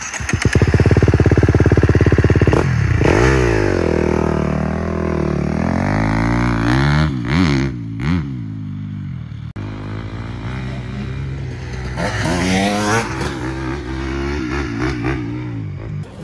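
A motocross motorcycle engine on a dirt track, loud and close, revving up and down through rising and falling pitch sweeps, with brief drops between throttle bursts.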